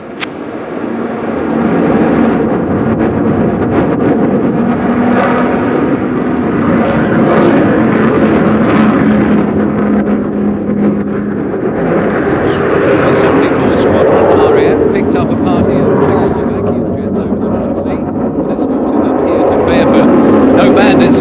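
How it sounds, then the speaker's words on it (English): Avro Vulcan bomber taking off at an air display at the 1991 International Air Tattoo: a loud, steady jet roar fills the whole stretch with a constant rumble, and a commentator talks over it throughout. "that completes a standard Vulcan display takeoff"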